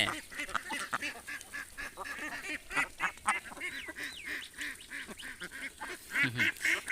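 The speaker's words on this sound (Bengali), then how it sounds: "কতটা পোষ মানলে এরকম হাতের কাছে হাঁস আসে" Tame ducks on a duck farm quack close by in a busy, overlapping chorus of nasal calls that rise and fall in irregular bursts for several seconds.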